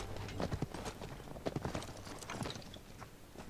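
Horse hooves clip-clop in the online shooter Paladins, a quick, uneven run of hoof strikes in the first half that thins out toward the end, fairly quiet against game ambience.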